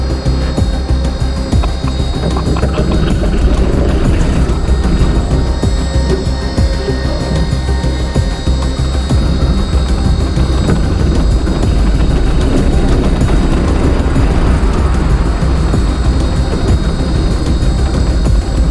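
An electric excavator descending a steep hill makes a continuous loud drone of motor whine and hydraulic hum, with track rumble and scattered clanks, steady and close for the whole stretch, with no voices.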